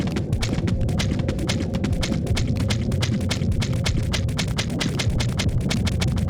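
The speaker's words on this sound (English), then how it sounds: "there's no better place to admire the squelchy footstep sounds" Squelchy footsteps in Kingdom Hearts 1 fall in a quick, steady run of soft, wet clip-clop steps, close and continuous throughout, with no music behind them.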